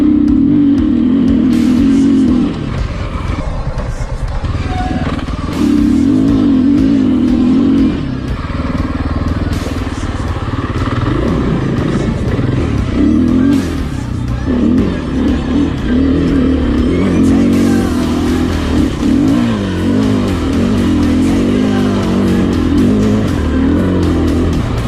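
KTM 500 EXC motorcycle ridden off-road, its single-cylinder engine revving up and dropping back repeatedly in loud close bursts, with throttle blips and shifts running through the whole stretch.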